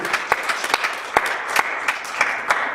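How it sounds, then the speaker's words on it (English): A church congregation claps along in a loose rhythm, sharp hand claps standing out over a bed of scattered clapping and murmured voices, fairly close and moderately loud. "Clap unto the Lord."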